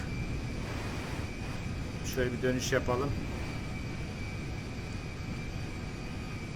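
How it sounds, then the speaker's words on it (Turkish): A Boeing 747 firefighting tanker plane taxiing on a runway in GTA 5 gives off a steady, broad engine roar with a constant high whine, loud and unbroken throughout, while someone briefly speaks over it. "Boeing 747 tanker uçağı. Evet, şimdi birazdan havalanacak."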